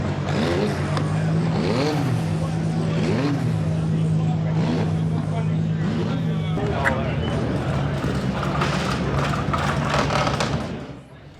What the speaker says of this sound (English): This is a 1993 McLaren Ford MP4/8.